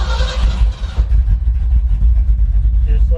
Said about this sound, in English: We're just going to go ahead and fire this truck up.